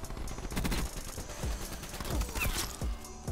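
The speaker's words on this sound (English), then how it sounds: "My man's shooting RPGs." RPG rockets firing in Black Ops 4 come as a rapid series of heavy thumping blasts and mechanical clatter, dense and fairly loud, with faint game sounds and possible voice underneath.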